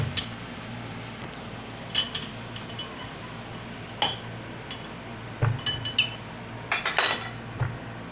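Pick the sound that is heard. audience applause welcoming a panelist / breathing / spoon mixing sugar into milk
spoon mixing sugar into milk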